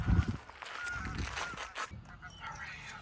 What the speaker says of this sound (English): fucking geese don't know what they got coming.